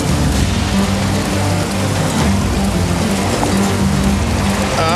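Strong river current rushing near a waterfall in the Serra do Aracá, a loud, steady, dense roar of churning water filling the whole clip without pause.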